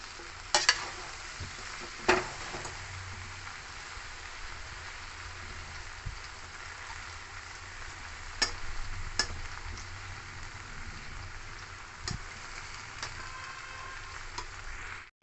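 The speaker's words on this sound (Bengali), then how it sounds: "এবারে গ্যাসটা স্লোতে রেখে চালতাটা ভালো করে ভেজে নেব।" Elephant apple (chalta) with turmeric fries slowly on a low gas flame, making a soft steady sizzle with a few scattered scrapes and clicks from stirring.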